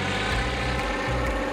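A propeller airplane flies low over the harbour at Ketchikan, where the waterway doubles as an airfield and runway, making a steady, loud droning engine hum that holds throughout.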